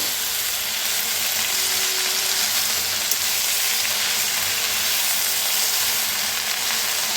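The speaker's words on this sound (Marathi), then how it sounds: "आता मेथीला जरा मिक्स करूया" Fenugreek leaves frying in a pan as they are mixed, giving a steady, close sizzle with a soft bubbling hiss throughout and no voices.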